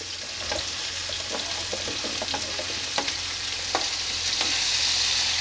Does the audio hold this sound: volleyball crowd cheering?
no